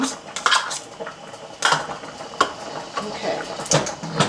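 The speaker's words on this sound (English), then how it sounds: "stir the pasta so it doesn't stick together" Spaghetti being stirred in a pot, with repeated clinks and scrapes of a utensil against the metal, close and fairly loud.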